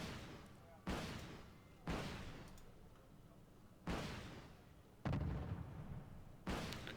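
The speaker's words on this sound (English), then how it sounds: "Small diameter bombs attack from the top, dealing substantial amounts of damage" Small diameter bombs striking from above in the war strategy game Wargame Red Dragon, a series of about six heavy booming blasts spaced roughly a second apart, each decaying into rumble.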